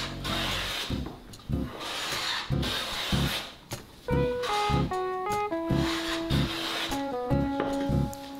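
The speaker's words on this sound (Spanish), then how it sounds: "Lo siguiente que hago es ajustar el cepillo para que tenga un corte muy fino." A hand plane set for very fine cuts shaves a mahogany block for an electric guitar body, with rhythmic rasping strokes about every half second. Sustained musical tones play underneath from midway through.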